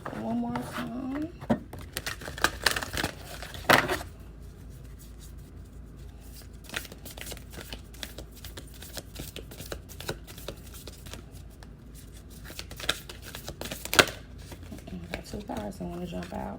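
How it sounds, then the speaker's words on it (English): Oracle cards are shuffled repeatedly, giving soft riffling and tapping sounds in bursts against quiet room noise. "Shuffle one more time."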